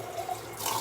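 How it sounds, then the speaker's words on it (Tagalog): Water is poured into a shisha base, making a soft, steady trickling and splashing pour close by that grows slightly louder and brighter near the end. "Lagyan po natin ng tubig."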